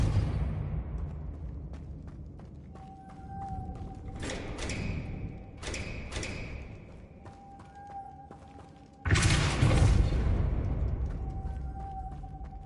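Depulso force blasts cast in Hogwarts Legacy, with several separate whooshing thumps followed by ringing magical tones, fairly close and isolated, with the caster speaking the spell name.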